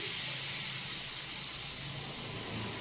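A pressure cooker vents steam with a steady, loud hiss that runs unbroken for the whole stretch after its third whistle, while palak dal cooks inside.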